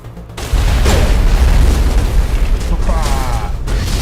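An explosion in a video game hits suddenly as a loud low boom, then a sustained rumbling roar that keeps going to the end with little letup.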